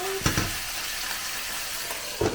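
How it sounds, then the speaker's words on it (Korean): Mussels dropped into a hot pan for mussel oil pasta give a steady, bright sizzle and hiss, broken by a couple of clacking shell knocks against the pan. "여기에도 홍합을 넣고"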